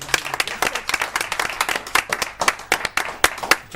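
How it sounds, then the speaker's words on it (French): Loud applause with scattered, irregular claps from a small audience at a TV stage show, steady throughout with no voices. "On va t'applaudir très très fort."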